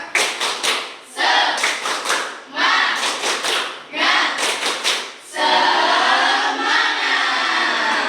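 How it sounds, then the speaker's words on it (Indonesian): A school class performs a rhythmic 'tepuk semangat' spirit clap: quick groups of loud, synchronized hand claps in a patterned beat, followed by children's voices shouting together at the end. "kalau semangat kita tepuk semangat dulu"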